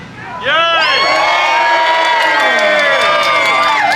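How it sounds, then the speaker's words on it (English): Audience at a live juggling show erupts in loud, sustained cheering and whooping, with high shouts from children among the crowd; the burst starts abruptly after a brief quieter moment and holds steady throughout. "first and most obvious of which is simply some audience enthusiasm."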